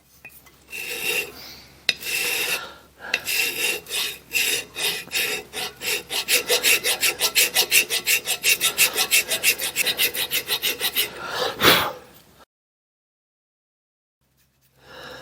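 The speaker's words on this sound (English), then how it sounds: "I'm going to just hit this surface with a file." Coarse file rasping across a steel surface coated with JB Weld Steel Stik on a Palmgren vise, a series of rhythmic scraping strokes that quicken into steady rapid passes, then stop into silence.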